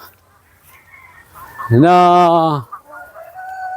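A Rhode Island Red rooster lets out a loud, close crow of about a second on a farm, with quiet background noise and a soft voice before and after.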